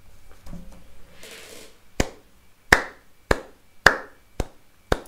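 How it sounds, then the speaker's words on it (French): Several sharp, loud hand claps ring out one by one at a slow, even pace after a brief quiet rustle. "Tu mérites vraiment des applaudissements."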